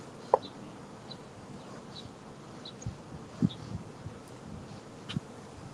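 Honeybees drone steadily around an open hive during a transfer from a nuc to a single brood box, a soft continuous buzz with occasional louder passes of individual bees close by, no voices.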